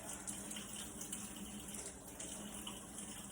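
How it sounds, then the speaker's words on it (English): Hot water runs from a kitchen tap for hand washing, a steady, faint hiss of flowing water with no pauses. "With hot water, I'm going to wash my hands"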